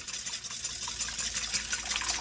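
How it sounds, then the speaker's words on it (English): Melted butter is poured into a bowl of whisked egg for Nanaimo bars, making a close, continuous liquid trickle and splash with no talking. "And then we're going to pour in our butter."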